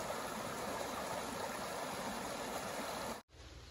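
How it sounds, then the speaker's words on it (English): Small waterfall on an Appalachian Trail creek pours in a steady, close rushing wash, cutting off abruptly near the end before a quieter trickle. "That's just a little bitty waterfall"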